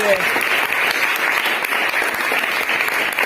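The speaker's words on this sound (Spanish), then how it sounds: "Un aplauso al Señor" A church congregation claps for the Lord, loud and dense applause close by, with some voices mixed in over the continuous clapping.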